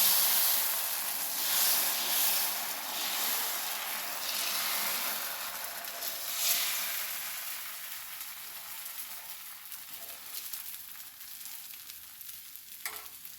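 Dosa batter spread on a hot oiled pan, sizzling with a steady steamy hiss that is loud at first and gradually fades, with a brief scrape near the end and no voices.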